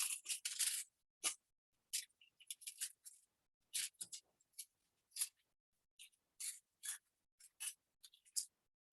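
Scissors cutting along drawn lines in aluminum foil for a parachute radial balance art piece, with quiet, close crinkly snips and rustles in short irregular bursts separated by silence.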